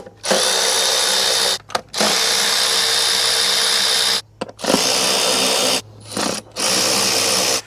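A power tool backs out E10 inverted Torx bolts on a Mercedes-Benz engine in four loud, close whirring bursts of a few seconds each, separated by brief silent pauses.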